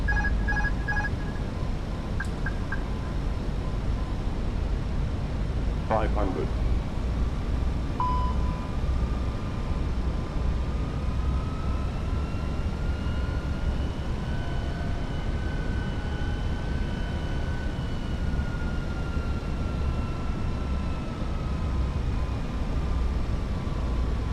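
Airbus jet engines of a British Airways flight into Madrid roar steadily through the cabin during landing, a constant broadband rumble with a brief tone and chime sequence early on and slowly shifting engine whine.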